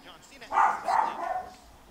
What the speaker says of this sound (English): A really good time for the dogs to bark.